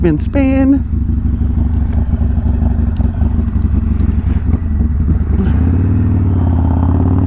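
A motorcycle fitted with a Hammer Performance 1250 kit rumbles loudly and close, revving as it pulls away, with a brief voice and clatter at the start.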